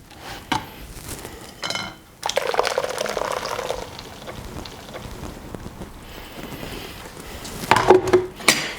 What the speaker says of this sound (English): you can get all of that in the sieve and then can just push it through with a ladle.